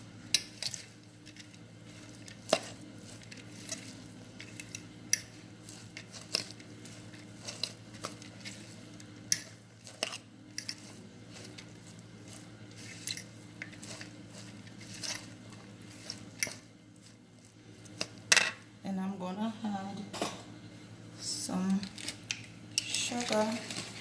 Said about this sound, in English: And mix, mix, mix.